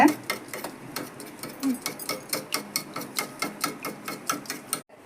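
A milk mixture is beaten by hand in a bowl, with a steady run of regular clinking whisk strokes, close and clear, about three per second, stopping abruptly near the end.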